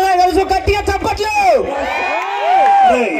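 A live audience at a comedy skit staged during a Shivaratri event in Mathyagundam cheers and whoops loudly, with shouting voices rising and falling over a short burst of crowd noise close to the stage.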